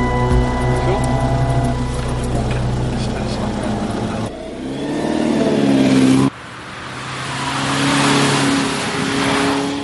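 A supercar engine climbs in revs while driving in third gear, loud and close, with a harmonic whine rising, a brief dip and a fresh surge after a shift. Someone talks over it.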